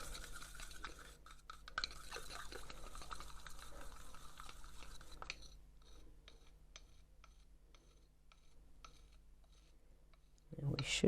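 Paint gets stirred in a small pot, producing soft, regular clicking and scraping strokes, faint and close, that slow toward the end before a louder knock.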